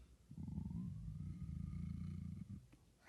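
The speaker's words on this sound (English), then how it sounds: "Then it purred." A black cat purrs near a fireside, a low steady rumble held close and continuous for a few seconds, with no voices over it.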